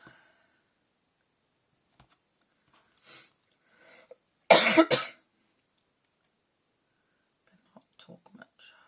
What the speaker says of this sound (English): I start talking, I cough.